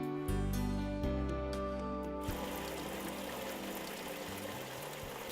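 Spring water flows steadily through a channel in a Japanese community, a constant close rush and trickle, with music heard at the start before the water sound takes over.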